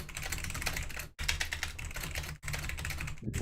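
Someone types steadily on a computer keyboard, a dense close clatter of keystrokes broken by two brief pauses, with no voices.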